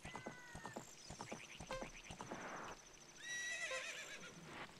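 Horse neighing and galloping in The Legend of Zelda: Ocarina of Time, with several sharp whinnies over a steady run of clip-clop hoofbeats, loud and close, with game chimes mixed in.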